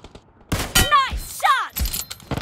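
Gunfire bursts in the mobile battle-royale game PUBG Mobile during an Arena Wars 2 match, with a sharp report near the start and more shots mixed with announcer-style game voices and in-game effects.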